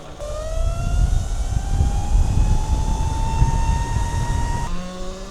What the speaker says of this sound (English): It's certainly noisier with this chain conversion.